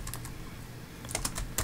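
Fingers tap out a command on a computer keyboard in a quick burst of light clicking keystrokes, close and clear, with a pause between two short flurries and no talk.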